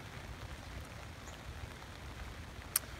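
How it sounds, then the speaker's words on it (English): Steady rain falls in a garden, a soft, even hiss of drops close by with one sharper tap near the end, and no voices over it. "We're getting a lot of rain here."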